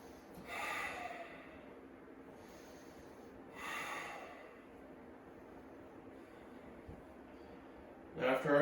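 Two forceful, audible exhalations during a yoga pose, each a broad breathy whoosh about three seconds apart, close and fairly soft, followed by a brief rustle near the end.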